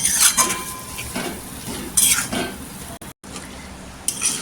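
Smoky roasted-eggplant bharit with fresh coriander being stirred in a pan after the heat is switched off, a light sizzle under bursts of spoon scraping against the metal, with a brief silent gap midway.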